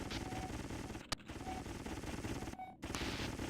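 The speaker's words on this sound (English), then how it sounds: "Watch out for those turrets, Slater." Turrets in the G-Police video game fire over a dense, steady roar of game noise, with rapid gunfire and a sharp crack partway through, then brief dropouts in the din.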